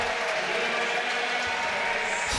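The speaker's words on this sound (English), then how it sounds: "standing ovation, a lot of applause" A women's college basketball arena crowd at Duke rises in a standing ovation, its applause a dense, steady wash of clapping and crowd noise that stays loud throughout.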